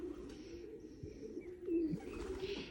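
A Washi pigeon coos softly at close range, low rolling calls repeating over faint background noise, with a few small chirps and no speech.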